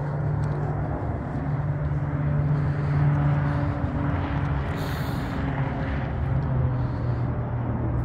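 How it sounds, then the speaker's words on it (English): Road traffic from Cave Creek Road near a suburban house hums as a steady low drone with a faint engine tone, distant and continuous with no voices. "I can't already hear the Cape Creek Road noise."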